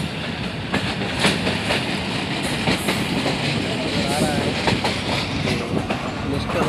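The Millat Express of Pakistan Railways runs on the rails with a loud, rhythmic clickety-clack of wheels over joints, heard close from on board beneath a steady rumbling roar.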